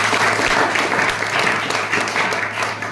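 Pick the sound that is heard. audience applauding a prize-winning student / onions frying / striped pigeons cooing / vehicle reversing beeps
audience applauding a prize-winning student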